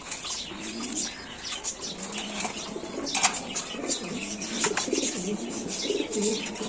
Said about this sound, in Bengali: আমার এই কবুতরগুলো হচ্ছে কালো ম্যাকপাই কবুতর।